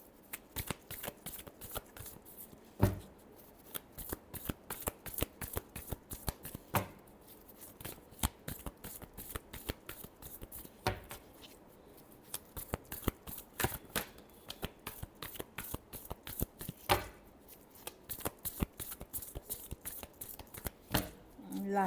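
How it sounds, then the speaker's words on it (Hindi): Tarot cards are shuffled by hand in a dense, steady run of crisp riffling clicks and slaps that carries on throughout, with occasional sharper snaps, recorded close and fairly quiet. "Last shuffle."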